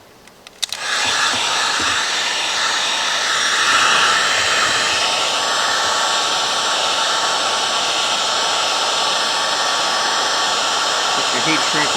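A heat gun blows steadily on heat shrink tubing over a washing machine motor plug, starting with a few clicks and then holding a loud, continuous broadband whoosh with a slight swell in the middle, with no talking.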